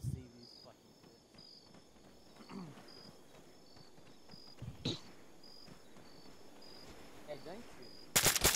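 Gunfire in an SCP operation video game session: a few isolated shots ring out over a faint night ambience of chirping crickets, followed by a loud rapid burst of fire at the end.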